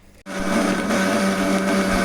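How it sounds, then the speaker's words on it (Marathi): A mixer grinder starts abruptly and then whirs at a steady, loud pitch, blending ice apple, milk and cream into a milkshake. The motor runs continuously with no talking over it. "परत आपण त्याला मिक्सरमध्ये फिरवून घेऊया."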